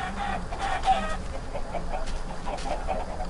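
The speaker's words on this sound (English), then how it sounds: "The chickens are all flooding out." Video-game chickens flooding out of a pen cluck repeatedly in short, quick bursts, close and moderately loud over a faint background hum.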